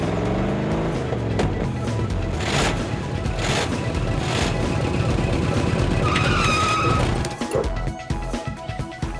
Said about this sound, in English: We're waiting for Gemma's limo.